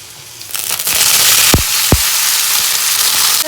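Boiled potatoes dropped into hot oil seasoned with black cumin and green chilies, starting a loud, close sizzle that stays steady, with two sharp thuds as pieces land.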